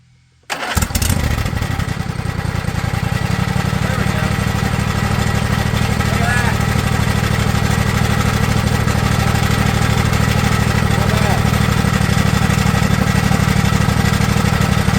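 A two-stroke Husqvarna engine starts after a brief silence, then runs loud and steady with a buzzing, rattling tone close by for the rest of the clip.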